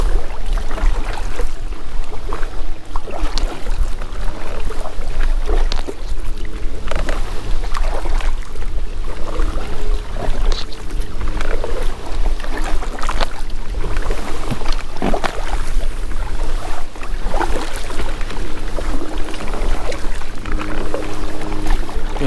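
Wind buffets a kayak paddling around an island on the Kollersee, a constant loud roar with the rush and slap of choppy waves and the occasional knock of the boat, steady throughout with no voices.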